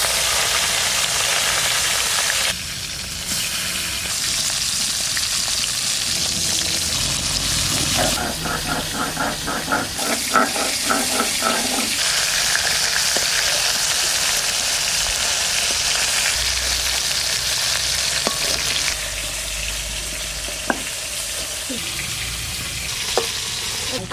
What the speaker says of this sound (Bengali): কবিতা, মাছ দাও, তেল গরম হয়ে গেছে।